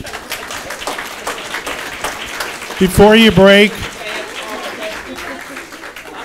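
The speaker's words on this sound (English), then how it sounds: "thank you for the applause." Audience applause at a justice workshop fades under a speaker's voice, with light clapping continuing in the background while a person talks.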